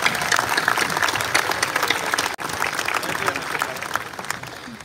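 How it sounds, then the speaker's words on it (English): Audience at a City of Miami Fire-Rescue change of command ceremony applauds in a full, sustained round of clapping that stays loud, dips sharply for an instant midway, then tapers slightly toward the end. "They deserve a round of applause"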